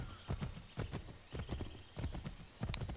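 Horse hooves clip-clopping in Assassin's Creed 3, a brisk, uneven run of close hoofbeats with a brief whinny near the end.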